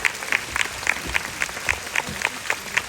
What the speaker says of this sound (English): I think we should give everybody a big round of applause